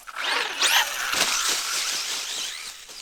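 A Traxxas Stampede RC truck running on 3S brushless power launches away with a rising high-pitched motor whine. The whine then sweeps up and down in pitch as the throttle varies and stays moderately loud for the rest of the clip, with no talking.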